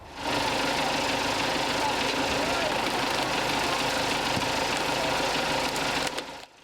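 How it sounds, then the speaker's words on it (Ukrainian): An MTZ 89.2 tractor engine runs steadily while driving a shredder, a loud, continuous mechanical drone with knocking vibration that cuts off near the end. A voice speaks over it. "Як тільки зникає живлення, до подрібнювача в допомогу приїздить трактор."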